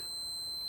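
Multimeter set to continuity, emitting a steady high-pitched electronic beep while testing a wire for a speaker install in an old Ford F-150; a single continuous tone, close and clear.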